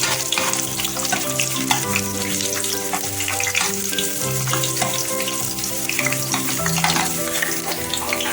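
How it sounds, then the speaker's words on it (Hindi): Steady, dense sizzling of garlic frying in hot oil for a daal tempering, crackling and popping continuously with occasional stirring, no voices. "सिर्फ लहसुन के साथ तड़का लगाते हैं।"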